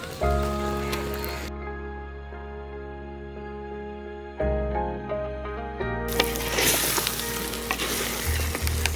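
Saoji masala with brown onion paste sizzling in a pan, a steady frying hiss with stirring noises that grows busier toward the end, heard under a background music track.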